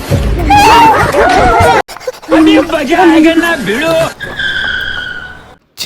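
Tyres squeal and skid loudly up close as a motorbike slides and stalls to a halt, the screech bending in pitch, broken briefly, then ending in a short ringing tone; no clear voice is heard.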